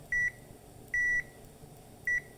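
A ZOYI ZT219 digital multimeter on continuity test gives three short, clear, high electronic beeps at roughly one-second intervals, close and alone against faint background noise.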